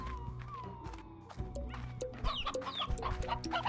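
Hens cluck and squawk in the farming video game Slime Rancher, giving a busy run of short, repeated calls of moderate loudness against a steady background of game music and ambience.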